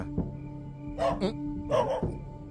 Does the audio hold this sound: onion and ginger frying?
no